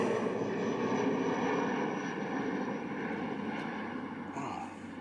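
A small ATR turboprop airliner departing Christchurch Airport for Tauranga, its steady engine drone sustained and moderately loud, slowly easing off toward the end.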